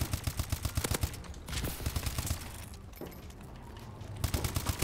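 Rapid gunfire from an SMG in the shooter game Call of Duty: Advanced Warfare, with quick sharp bursts at the start, a busier mixed stretch of shots, then another fast burst at the end.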